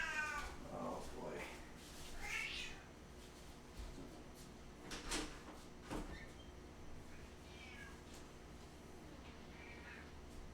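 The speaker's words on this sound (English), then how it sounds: "one of the reasons that he meows so loudly, which sounds pretty horrid, is that he can't hear very well" A hard-of-hearing cat meows loudly, giving several drawn-out, harsh yowls spread across the stretch with pauses between them, mixed with faint household knocks and quiet talk nearby.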